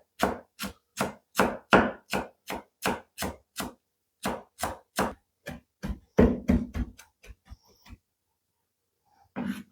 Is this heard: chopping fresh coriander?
yes